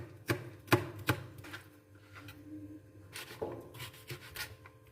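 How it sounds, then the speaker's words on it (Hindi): A knife chopping cucumber on a cutting board while preparing a mixed vegetable salad, with several sharp, close taps at the start, then softer slicing and scraping strokes, and a few more crisp cuts near the end. "सबसे पहले हम खीरे को काट लेते हैं, खीरे की कटिंग कर लेते हैं।"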